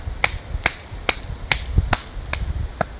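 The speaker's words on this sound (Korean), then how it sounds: "손등 박수" Back-of-hand clapping done as a health exercise during a forest healing session: seven sharp, evenly spaced slaps about every half second, close and crisp, with no talking.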